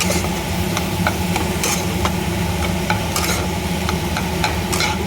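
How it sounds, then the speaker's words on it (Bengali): A spatula stirs cooked-down red amaranth greens in a pan, scraping in steady irregular strokes over a constant sizzle and low background hum, close and fairly loud, with no talking. "শাকটা একটু খুন্তি দিয়ে এইভাবে ঘেঁটে দিতে হবে।"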